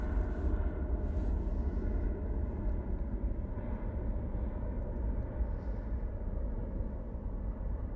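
An airliner departing Manchester Airport for Berlin gives a steady, loud, low engine roar that holds without a break for the whole stretch. No one speaks over it.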